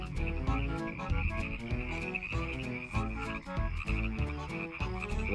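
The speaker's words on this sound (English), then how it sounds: "That's how you catch a frog." Frogs croak loudly and continuously in a rapid, rhythmic chorus of overlapping calls, close by, with no voices present.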